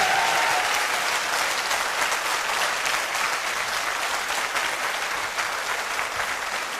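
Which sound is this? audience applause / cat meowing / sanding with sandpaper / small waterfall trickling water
audience applause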